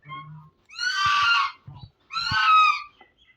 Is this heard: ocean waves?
no